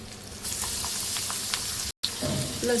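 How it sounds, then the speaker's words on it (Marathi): Steady close sizzle of cumin, curry leaves and garlic frying in a pan, a dense hiss with a few small pops, cut by a momentary break of silence. "लालसर भाजू द्यायची आपल्याला"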